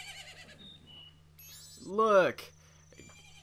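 A horse neighs at a ranch in the video game Zelda: Majora's Mask: one loud, rising-and-falling whinny partway through, over a steady low game hum, with a short spoken exclamation just before it.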